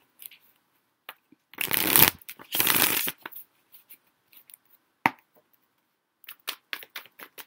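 A deck of tarot cards being shuffled in two loud riffling bursts, followed by scattered soft taps and card flicks; no voices.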